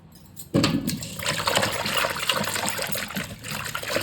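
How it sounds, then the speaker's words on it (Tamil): Tubers scrubbed whole with their skins in a vessel of water, a steady sloshing and splashing that begins abruptly and carries on close and fairly loud. "இது ஊறிட்டு நம்ம இந்த கிழங்கு தோலோடவே அப்படியே நல்லா கழுவி எடுத்துக்கலாங்க"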